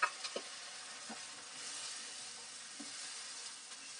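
Ground tomatoes and green chillies frying in a pan after onions, a quiet steady sizzle with a few soft stirring scrapes, heard alone without talk.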